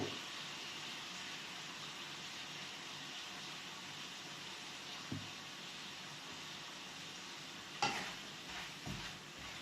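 Onions for chicken adobo caramelizing in a pan with pepper added, giving a steady, soft sizzle and hiss throughout, with a few brief clatters of stirring near the end.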